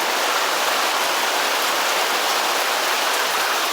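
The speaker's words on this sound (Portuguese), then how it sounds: "Agora tá chovendo, gente." A heavy downpour roars steadily, with thick broadband spatter from drops striking nearby surfaces. It stays loud and unbroken for nearly four seconds with no speech.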